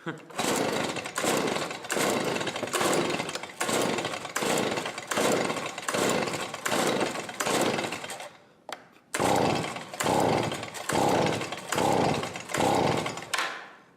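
A Stihl two-stroke engine, nearly out of fuel and running on choke, surges and sags in a rough, rhythmic pulse. It is loud and close, briefly cuts out near the middle, then picks up again before dying away.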